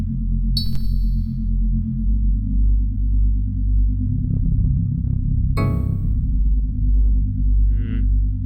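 Chord-tone oscillator in the VCV Rack modular synthesizer, droning as a steady low harmonic chord with brief bright pings on top, continuous and close.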